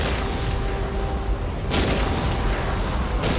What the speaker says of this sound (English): We will silence that Orc artillery.